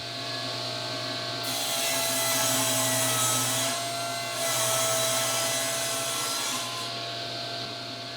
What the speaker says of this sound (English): I'll just cut them from this piece of plywood